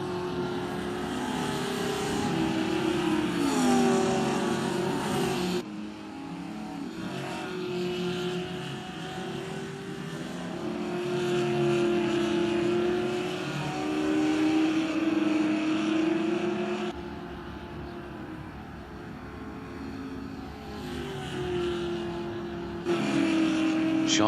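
Open-wheeler race cars lap a circuit during an SMSA championship session, engines droning loudly with rising and falling pitch as they accelerate, shift and pass close by, one after another.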